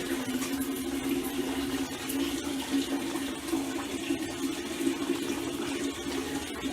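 Water runs steadily through the mortar bed of a shower pan with a waterproofing membrane, a soft continuous trickle and hiss heard close up without interruption.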